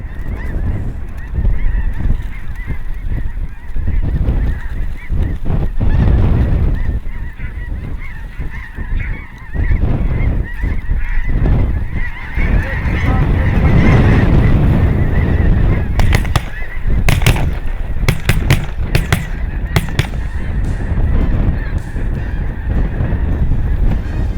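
A large flock of snow geese honking continuously over decoys, dense overlapping calls near and far, with a few sharp bangs late in the clip.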